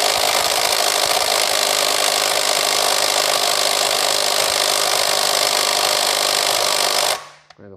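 A Milwaukee M12 2564-20 right angle impact ratchet runs in reverse, giving a loud, steady, broadband whirring and rattling buzz that holds for about seven seconds before cutting off, with no talking.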